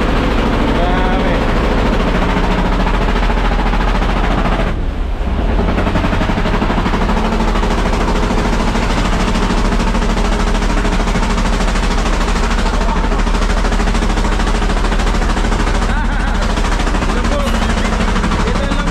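A fishing boat engine roars loud and continuous through its new exhaust pipe at sea, a dense rattling drone that barely dips once, with voices talking over it.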